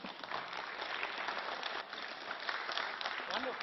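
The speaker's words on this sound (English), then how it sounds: "Well, I see that there's applause for that question." Applause in the European Parliament for a question, a soft, steady patter of clapping from part of the chamber lasting a few seconds, with speech running faintly underneath.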